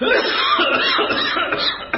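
A person coughs repeatedly in a harsh, strained fit, close and loud, with a raspy, choking quality.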